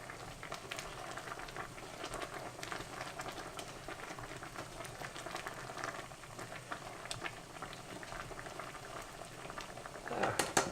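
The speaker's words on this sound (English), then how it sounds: "we're going to let that simmer for about 45 minutes" Chicken soup simmers in a pot with a steady, dense bubbling and popping that holds evenly throughout, swelling slightly louder near the end.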